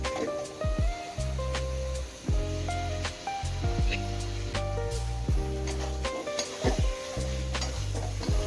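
Mutton fat dropped into a hot pan for kabuli chana, crackling and sizzling steadily with occasional clinks of a utensil against the pan, close and fairly quiet, with low hum in the background.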